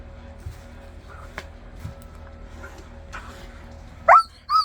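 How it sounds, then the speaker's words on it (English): Dog giving a sudden loud bark followed by a second yelping call at the end, after a quiet stretch with faint background noise. "Frickin' dog's pissing you off,"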